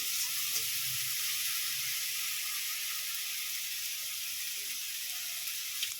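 Spices sizzle in a little oil with a splash of water, a steady close frying hiss that runs unbroken for several seconds, with only faint stirring and no voices.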